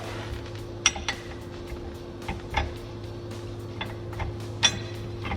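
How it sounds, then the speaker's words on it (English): Differential bolts on a 2016 Dodge Challenger Hellcat are backed out with a ratchet, giving sparse metallic ticks and clinks at irregular intervals over a faint steady garage hum. "So now we're going to back out the differential bolts about"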